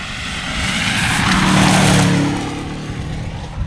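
A two-wheel drive rally car passes on a Border Counties special stage, its engine swelling loudly to a peak mid-way then fading into the distance, with no talk over it.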